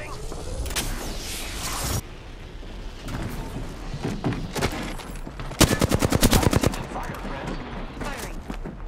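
Bursts of rapid automatic gunfire from the video game Apex Legends, several volleys with sharp clustered shots, loudest in a dense burst midway, mixed with game effects and occasional voice callouts.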